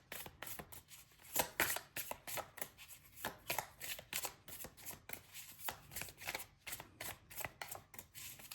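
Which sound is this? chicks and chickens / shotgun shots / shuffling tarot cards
shuffling tarot cards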